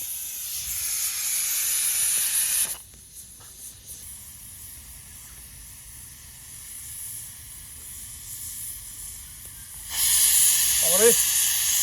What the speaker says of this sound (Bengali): প্রথম সিটি পড়ে গেছে আর মাত্র ছটা সিটি তাহলেই কমপ্লিট